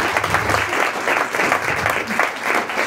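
Audience applauding in a hall, sustained loud dense clapping that swells and pulses throughout, with a little crowd noise mixed in.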